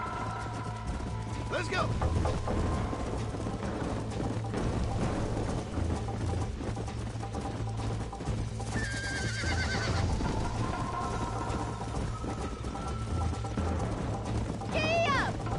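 A horse gallops and whinnies during a race in Red Dead Redemption, with hooves drumming steadily under a continuous game soundtrack, a couple of sharp neighs cutting through, and a voice speaking briefly.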